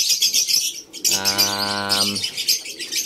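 African lovebirds chirp in a busy, close chorus of high tweets, with one loud sustained harmonic call rising above the chatter for about a second.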